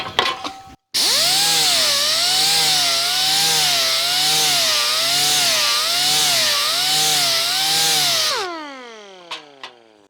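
An angle grinder with a 3M abrasive disc grinds down a piece of wood, giving a loud, continuous whine that wavers in pitch as the disc bites and eases for about seven seconds before spinning down.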